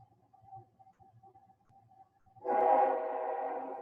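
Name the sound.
passing train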